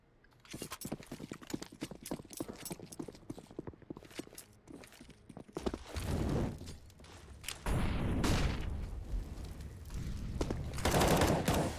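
Rapid gunfire bursts in a competitive ESEA Advanced esports match between Valkyrie and Pryde, sharp crackling shots starting sparse and then building into dense, loud sustained volleys near the end.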